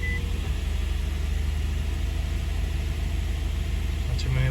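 An Infiniti G35's engine idles steadily with a low, even rumble throughout, with a short beep near the end.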